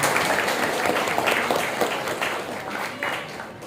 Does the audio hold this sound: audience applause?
yes